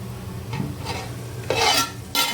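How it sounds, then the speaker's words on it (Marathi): Spices being mixed in a pan for a village-style chicken curry, with soft scraping strokes and a quiet background sizzle, then two louder, brighter bursts of stirring near the end. "आता हे सगळं मिक्स करून झाकण ठेवून मी हे मसाले शिजवून घेणार आहे"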